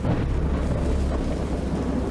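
Thunder in the game Dagon: a low, continuous rolling rumble with a rain-like hiss layered on top, steady and heavy for the whole stretch.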